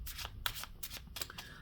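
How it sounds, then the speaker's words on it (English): Tarot cards are shuffled in quick, close riffling bursts, several short rustling passes in a row in a quiet room. "Okay, so this is the last shuffle."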